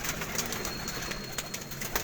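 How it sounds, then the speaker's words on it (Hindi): Pigeons cooing softly on a rooftop loft among antique breed birds, faint and steady under a constant hiss of outdoor background. "ये कबूतर इनमें बड़ा एंटीक कबूतर है।"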